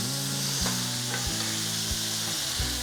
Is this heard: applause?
no